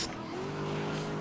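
Race car engine in the Grid racing game: a continuous loud engine drone with a steady tonal whine that rises slightly, no talking heard.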